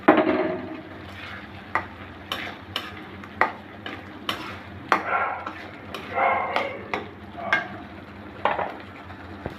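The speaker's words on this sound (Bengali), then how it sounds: "এই মশলার সাথে আমি চিংড়িগুলো একটু কষিয়ে নিব।" Prawns are fried and stirred with spice paste in a pan, with repeated scraping spatula strokes at an uneven pace over a low sizzle, close and moderately loud.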